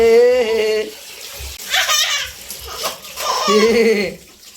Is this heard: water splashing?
yes